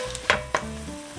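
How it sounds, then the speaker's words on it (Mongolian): Barley flour and yellow millet fry in fat rendered from beef brisket, giving a soft, low sizzle. Two sharp clicks of stirring come through over a faint steady hum. "Ялгаж авсан өөхөөрөө тос гаргаад дээр нь 2 халбаг арвайн гурал, 2 халбаг шар бодоо хийж хуурна."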